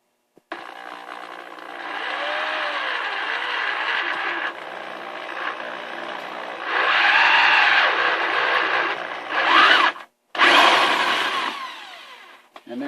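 A drill whirs in steady bursts while dimpling and drilling holes for attaching a sprayer hose to a washing machine, loud and close, with a short pause near the end before it starts again.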